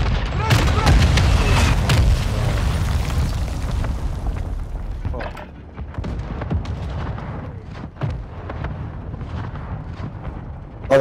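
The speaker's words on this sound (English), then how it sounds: "They've got so many airstrikes." Heavy airstrike explosions in Call of Duty Modern Warfare II boom and rumble loudly at first, then fade into scattered distant blasts and gunfire, with voices talking underneath.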